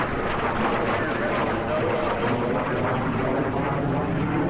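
An F-86 Sabre jet with a Westinghouse engine flies at the 2010 March ARB Airfest airshow, making a loud, steady, wind-like roar that fills the whole stretch without a break.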